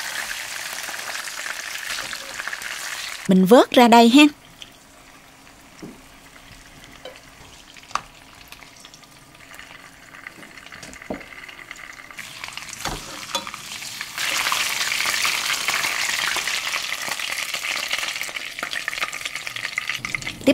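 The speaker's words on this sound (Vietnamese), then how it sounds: "Trở đều để cá áo dầu hành." Fish pieces frying in shallot oil for fish porridge, a soft steady sizzle with occasional utensil knocks and stirring, a brief spoken line near the start, and the frying growing louder and denser toward the end.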